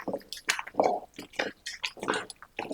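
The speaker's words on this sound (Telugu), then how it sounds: "ఇవి కూడా వేసుకొని పచ్చడిని మొత్తం మెత్తగా రుబ్బుకోవాలి" Bottle gourd chutney with garlic cloves being ground by hand on a stone in village style, producing close, rhythmic wet squishing and crushing strokes repeating about twice a second.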